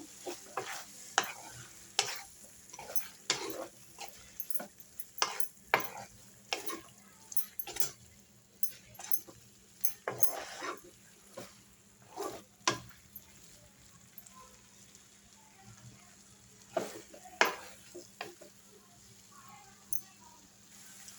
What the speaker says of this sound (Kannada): ತೆಂಗಿನಕಾಯಿ ತುರಿ, ಇವಾಗ ಚೆನ್ನಾಗಿ ಮಿಕ್ಸ್ ಮಾಡ್ಕೊಳ್ಳೋಣ